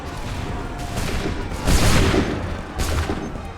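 Massed musket volley from a line of soldiers in Assassin's Creed 3 Remastered, several loud crackling bursts in succession, the strongest near the middle and another close behind, over a steady rumbling battlefield din.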